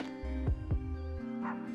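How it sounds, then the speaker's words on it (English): A dog gives two quick, close barks followed by a short whimpering yip, loud and clear with no talk over it. "there's a dog barking"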